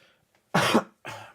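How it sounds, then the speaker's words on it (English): A person coughs twice into their arm, close and loud, with a short pause between the two sharp bursts. "Me coughing into my arm."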